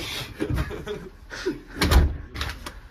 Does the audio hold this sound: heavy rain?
no